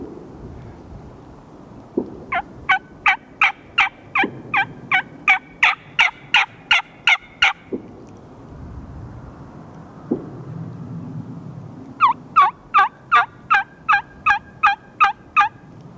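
A wild turkey on private land in Washington gobbles in two long, rapid bursts of sharp, evenly spaced notes, loud and close in an otherwise quiet afternoon, with no voices.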